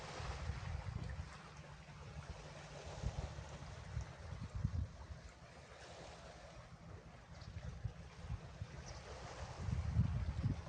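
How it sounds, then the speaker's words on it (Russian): Faint Baltic Sea waves wash against the shore far below a high vantage point, a soft, continuous surf mixed with wind buffeting the microphone and occasional low gusts. "Ну вот оно и море Балтийское. Красота, тишина и шум волн."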